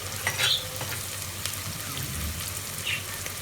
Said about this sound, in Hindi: तो हम डाल लेते हैं अब अदरक लहसुन का पेस्ट।